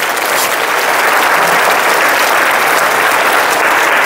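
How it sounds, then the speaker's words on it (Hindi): A roomful of school children applaud together in a loud, dense, continuous burst of clapping that holds steady throughout, with no clear voices. "ताली बजा दो एक बार।"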